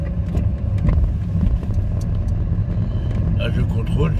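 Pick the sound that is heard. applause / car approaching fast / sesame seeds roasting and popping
car approaching fast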